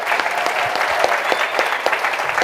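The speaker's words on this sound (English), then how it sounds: "London, give yourselves a clap." A London audience applauds continuously, a dense patter of many hands clapping at moderate volume with no break.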